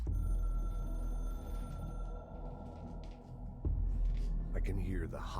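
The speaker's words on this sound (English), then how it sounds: "I can hear the hotline ringing in my dreams, constantly ringing." Telephone hotline ringing in the video game Control, a droning, throbbing electronic tone that continues steadily with an eerie hum, over which someone talks in the second half.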